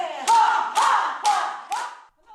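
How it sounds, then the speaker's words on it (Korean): Rhythmic group clapping at a senior citizens' health exercise class in a rural village seniors' center in Mungyeong, with four loud, evenly spaced claps and shouted counting in unison. "구령과 함께 박수 소리가 울려 퍼집니다."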